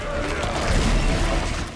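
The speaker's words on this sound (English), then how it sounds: "He jams his claw to the ground and it causes a radioactive explosion." A heavy slam and radioactive explosion as the Scourge boss drives its claw into the ground in Remnant: From the Ashes, a dense, loud burst of crashing, rumbling game noise sustained for under two seconds.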